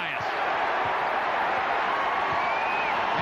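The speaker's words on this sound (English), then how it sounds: "And the crowd once again comes to its feet here at Cole Fieldhouse." A basketball crowd at Cole Fieldhouse roars and cheers continuously, loud and dense throughout, with faint ball bounces and a whistle-like tone beneath a college game atmosphere.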